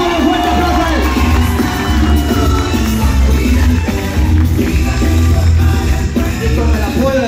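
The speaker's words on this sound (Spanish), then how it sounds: "¡Démosle un fuerte aplauso a él!" A crowd at a political rally in Honduras cheers, whoops and yells in a loud continuous roar, with voices shouting over the noise.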